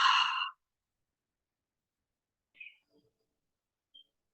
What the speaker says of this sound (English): And through the mouth, exhale.